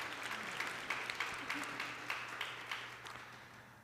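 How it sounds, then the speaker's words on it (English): Attendees at a church vestry meeting clap quietly and at a distance, a faint scattered patter with a few sharper individual claps standing out over a low steady hum. "It's okay, we can clap."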